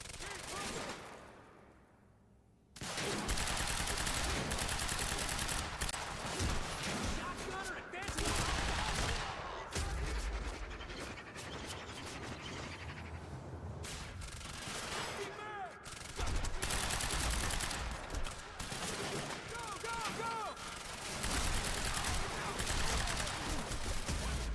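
Rapid gunfire bursts and volleys from the video game Quantum Break, loud and dense, start after a quiet opening and continue almost without pause, with scattered shots layered over a constant action soundtrack.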